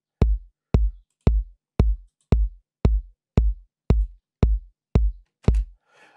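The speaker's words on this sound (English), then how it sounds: "and the kick sounds like this." A deep house kick drum programmed in FL Studio 24 hits eleven times in a steady, evenly spaced pulse, each thump punchy and booming with a short decaying tail, alone and close, with a faint hiss after the last hit.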